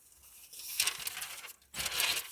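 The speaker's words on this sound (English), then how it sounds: "You hear that paper? It's crisp." Paper crinkles and crackles crisply in two bursts, close and fairly quiet, with a brief pause between them.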